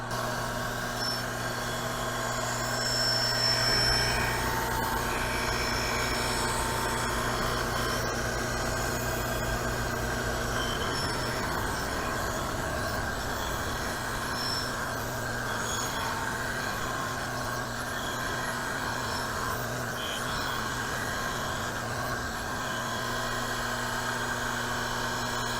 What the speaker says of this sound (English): we're just about ready to kick off doing the final grind on vise number 1